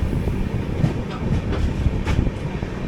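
Passenger express train rolling along rails on a journey from Shirdi to Yesvantpur, with a steady loud rumble and repeated faint clicks of wheels over rail joints, no voices.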